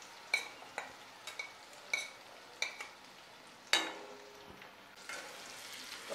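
A spoon stirs ginger and green chilli in a pan while cooking chole, scraping in a steady series of separate clinks and knocks over a faint sizzle, close and fairly quiet.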